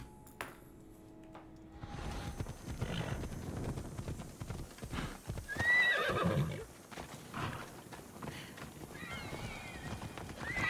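Agitated horse in Assassin's Creed Odyssey, hooves clip-clopping amid game ambience before a sharp neigh and whinny rises in the middle, followed by more restless snorting and movement.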